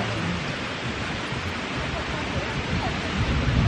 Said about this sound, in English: enjoy the wind and the breeze and the fresh air